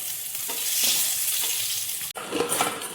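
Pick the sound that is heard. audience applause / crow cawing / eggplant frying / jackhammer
eggplant frying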